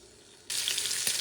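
Meat rendering its fat in a pan over medium heat bursts into a loud bright sizzle about halfway through, then keeps crackling steadily after a short quiet hiss, with one louder spatter near the end.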